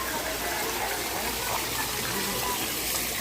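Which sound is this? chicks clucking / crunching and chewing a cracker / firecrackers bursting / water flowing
water flowing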